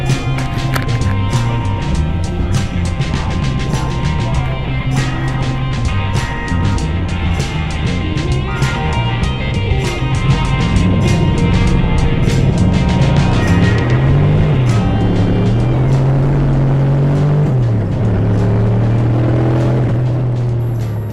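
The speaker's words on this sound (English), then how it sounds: "The car was definitely not running as smoothly as a V8 should." Turbocharged 1UZ V8 drift car with its engine running rough under boost, a loud, continuous, uneven droning rumble with wavering pitch that rises and falls throughout, heard close with no talk.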